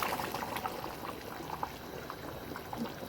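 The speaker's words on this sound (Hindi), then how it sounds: "दाल डालेंगे।" Cooked lentils pour into a pot of tender meat for an Eid dinner dish with spinach, a steady liquid stream and bubbling simmer running close and continuous, no talk.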